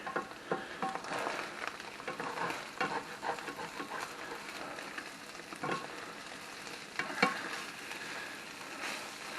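Corned beef hash sizzles in a pan with a steady crackling fry, broken by scraping and stirring clicks throughout, close and fairly quiet, with no voices.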